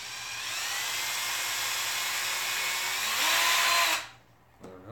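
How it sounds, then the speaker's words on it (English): A power drill whines steadily while boring holes into pieces of wood, loud and close for about four seconds before cutting off abruptly, followed by a short clatter. "And then we're going to use the drill."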